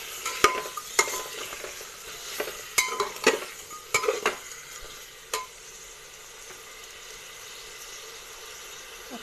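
A spoon stirs goat mutton curry in a frying pan, making a run of close scraping and clattering strokes over a low sizzle, then settling into a quieter, steady sizzle.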